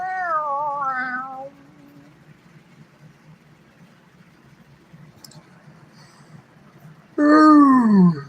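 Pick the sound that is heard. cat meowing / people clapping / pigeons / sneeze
cat meowing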